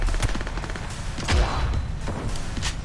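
Sniper and gunfire exchanges from the video game Cyberpunk 2077, sharp repeated shots and thuds spread irregularly across a few seconds of dense in-game action.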